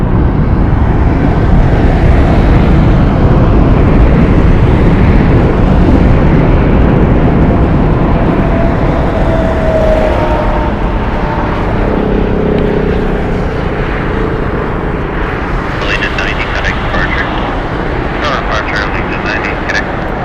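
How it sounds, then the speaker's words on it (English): Allegiant Air jet taking off at Las Vegas Harry Reid International Airport, a loud broad engine roar that swells and then slowly fades as the plane climbs away, with a voice talking over it. "Just about to clear the fence line. There goes our Allegiant flight."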